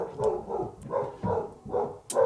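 A female dog barks at someone outside in a steady series of about five barks, moderately close and fairly loud, with no talking over them.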